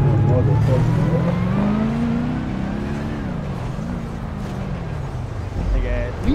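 A car with a Hellcat engine droning and revving, a loud low engine tone that rises, falls and wavers throughout, close by and continuous with no talk over it.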